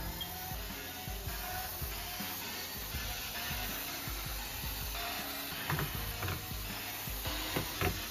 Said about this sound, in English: we can take off the LED board by removing 16 screws